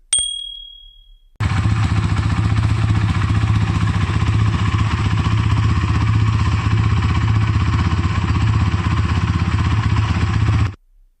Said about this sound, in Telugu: ఎగ్జాస్ట్ సౌండ్ అయితే ఒకసారి వినండి.